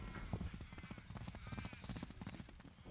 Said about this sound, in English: Conciello, this is his first gallop